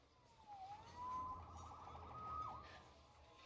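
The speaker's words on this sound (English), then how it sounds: "Saved by the siren." A police siren in the video game Marvel's Spider-Man Remastered wails in rising and falling sweeps, fairly faint, against a low background hum.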